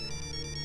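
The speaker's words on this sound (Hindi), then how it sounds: "किसका फोन है? पापा का फोन है।" A phone ringtone playing steadily and fairly loud, a sustained electronic tone with a pulsing pattern, heard alone without talk, in a Hindi police comedy TV series.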